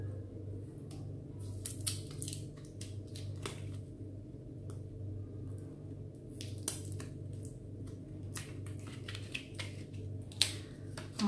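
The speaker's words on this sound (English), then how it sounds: "So let's open these washi stickers quickly." Washi sticker packages are opened by hand, giving close, crisp crinkling and tearing clicks in irregular bursts over a quiet background hum, with no talk.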